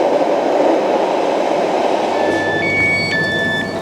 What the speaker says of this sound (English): There's a train, I think I can literally hear it coming right now.